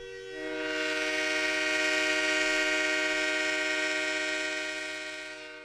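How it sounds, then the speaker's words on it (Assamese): A distant train whistle sounds over a quiet, dew-soaked campus at night, one long sustained horn tone that swells in and fades away alone. "নিলগত এটা ৰেলৰ উকি।"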